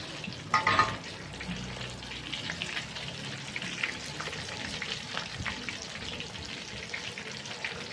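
Samosas crisping in hot ghee give a steady, close sizzling and crackling, with a brief clattering stir near the start and no talk.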